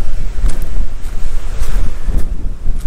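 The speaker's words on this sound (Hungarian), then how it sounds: "leszámítva ezt a hülye szelet, mert pont szembe kell neki menni" Strong headwind roars continuously into the microphone during a flat-road bike ride, a loud, steady, buffeting rush with no voices.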